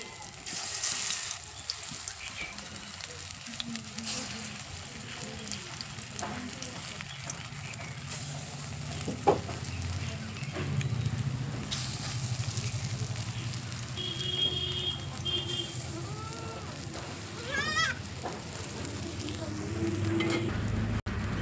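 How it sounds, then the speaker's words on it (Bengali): Spinach and potato fritters fry in hot oil with a steady, close sizzle that runs throughout, joined by occasional clinks and stirring. "তেলটা গরম হয়ে গেলে একটা একটা বড়ার আকারে নিয়ে তেলের মধ্যে দিয়ে দেব"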